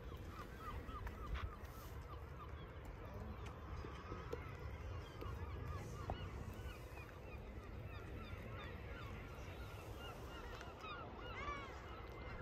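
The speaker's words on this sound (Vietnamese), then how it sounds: "Ở đây là các bạn đã có thể nghe được tiếng của chim hải âu rồi đó mọi người." Seabirds calling on a windy island near South Stack Lighthouse in Wales: dense, continuous overlapping cries from many birds over steady wind and surf rumble.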